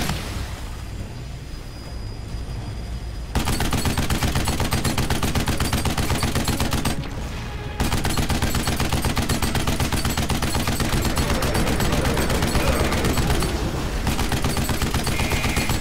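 Enemies in the Duke Nukem Forever video game fire relentlessly, a loud sustained rattle of rapid gunshots that runs almost continuously, broken by a couple of brief dips.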